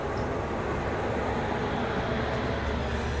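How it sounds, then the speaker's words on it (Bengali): The Shantiniketan Express, train 12337, pulls out of Howrah station with a steady, dense rumble of wheels and carriages, loud and continuous throughout. "এই ট্রেনটা এই হাওড়া স্টেশন ছেড়ে বেরিয়ে যাচ্ছে"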